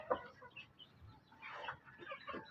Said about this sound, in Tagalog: Yan yung ating inahin na umitlog.